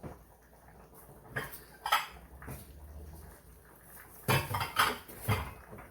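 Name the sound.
washing dishes, pots and pans while cooking spaghetti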